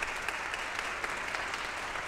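Audience applause at the end of an orchestra performance: steady, dense hand-clapping from a crowd, moderately faint and continuous.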